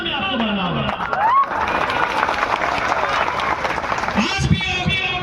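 A crowd at a political rally in Jharkhand applauds and cheers, loud mixed clapping and whoops under an amplified speaker's voice throughout.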